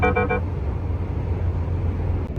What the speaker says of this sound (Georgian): ეხლა ზოლზე რო გადავიდე, ხმას გამოცემს და რაღაცებს დამიხატავს